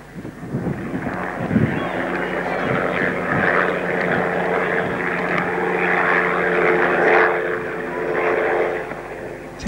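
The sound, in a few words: model aircraft engine flying at jet rally, Cessna-like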